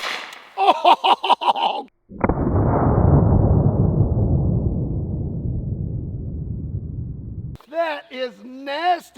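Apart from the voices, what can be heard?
4-gauge shotgun firing M&M candy shell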